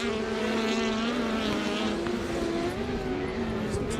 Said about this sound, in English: Listen to the car bouncing off the limiter over the loose surface section.